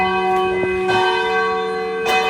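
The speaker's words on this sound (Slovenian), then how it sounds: "Tako se recimo v njeni spalnici sliši tradicionalno cerkveno zvonjenje ob mraku oziroma Ave Marija." Traditional church bells ring the Ave Maria at dusk, heard indoors from a bedroom through a closed window, a steady sustained ringing with repeated strikes in a continuous, fairly loud wash.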